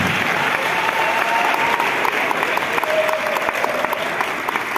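A crowd at the opening of the Visa for Music festival gives steady, full applause throughout, dense and even, with a light murmur of voices mixed in.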